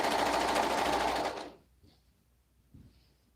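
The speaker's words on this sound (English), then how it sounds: "I'm going to sew this body together" Sewing machine stitching the body of a garment together, a loud steady whirring run for about a second and a half that then stops, followed by faint quiet handling noises.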